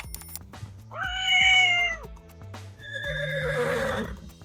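An AI tool turns a person's vocal meow into a cat meow sound effect, heard as two loud, drawn-out meows in a row, close and clear, with no talking.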